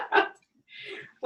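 A dog gives a couple of short, close barks with a brief pause between them, loud and clear with no talk over them.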